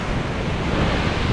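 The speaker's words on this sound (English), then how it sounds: "Lovely little waves." Small ocean waves break on a windy, cold beach, a close, continuous roar of surf mixed with heavy wind rumble against the microphone, with no voices.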